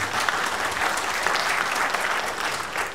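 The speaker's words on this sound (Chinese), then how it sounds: "不要鼓掌啊！" Audience applause at a lecture hall, steady and dense clapping from a large crowd lasting throughout, fairly loud and close with no talking over it.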